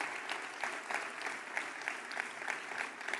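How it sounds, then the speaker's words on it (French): Steady applause from a large audience at an evening political rally, a dense wash of clapping with scattered louder claps running throughout and no voices. "Merci à toutes et tous ce soir, une fois encore, de les applaudir"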